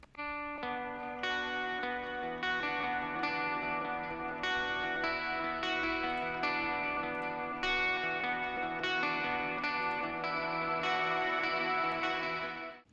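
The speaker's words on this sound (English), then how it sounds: "I really love this delay and this reverb" Sustained, layered modern metal guitar chords drenched in delay and two reverbs, notes smearing into a wide wash of echoes that fills the space without pause.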